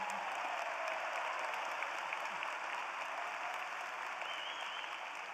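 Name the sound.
audience applause at a commencement ceremony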